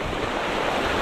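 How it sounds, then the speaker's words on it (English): Blustery wind buffeting the microphone beside a river at the Delaware Water Gap, a loud, continuous roar mixed with rushing water, with no voices. "It's a bit windy, as you can probably see and hear."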